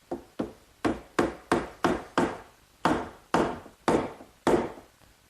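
Wooden dowels are hammered into a Mission-style sofa's slat and rail joint: about eleven sharp, close woody knocks at a steady rhythm, each with a short decay and no other sound.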